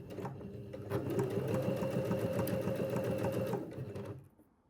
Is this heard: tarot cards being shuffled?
no